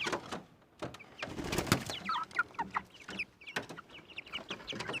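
Chickens and a rooster cluck and call in repeated short bursts, close and fairly loud, with pigeon-like cooing mixed in among the flock.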